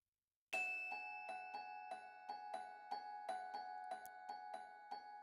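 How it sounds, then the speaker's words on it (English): An isolated glockenspiel part at 120 BPM rings out as a steady string of bright, sustained metallic notes, about a dozen evenly spaced strikes, clean and close with no voices. "So firstly, I'm going to bring in a glockenspiel part"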